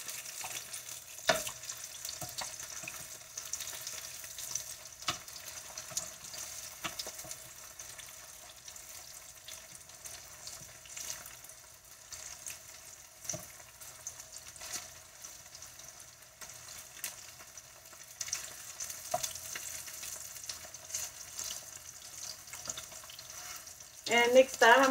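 Spam frying in a pan until lightly toasted, a soft, steady sizzle with scattered crackles and small pops running throughout, fairly quiet, with a louder clatter near the end.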